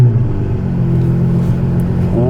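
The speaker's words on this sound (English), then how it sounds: "This is in a different league when it comes to noise. Listen to this. The Novitec 812 N-Largo." Novitec-tuned Ferrari 812 N-Largo V12 with aftermarket exhaust, revving loud and close with a steady deep roar and a rising note near the end, no talk over it.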